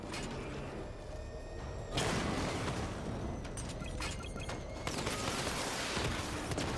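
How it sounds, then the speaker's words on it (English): Missile barrage fire in Batman Arkham Knight: a run of explosive bursts and booms, with sharp onsets at about two and five seconds and rumbling blasts between them. "Missile barrage level 2 ready."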